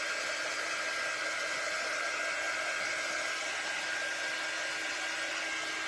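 A hair dryer blows steadily on paste-coated fabric, giving a loud, constant, close-up rushing hiss with a faint motor whine and no break for the whole stretch.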